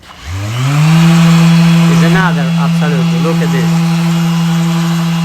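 A polishing machine spinning up on a marble-effect Venetian plaster wall, black with light green veins: a steady loud motor hum that rises quickly and holds, with a voice talking briefly over it in the middle.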